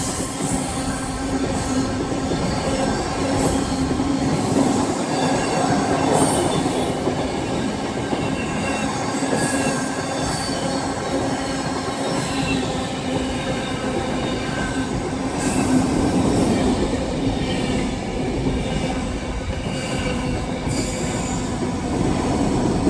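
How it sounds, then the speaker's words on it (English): Freight trains roll through Barking station in London, a steady loud rumble of wagons with wheel squeal and rail clatter running continuously, swelling in places as heavy cars pass close by. "What you're about to see is a few freight trains passing through Barking."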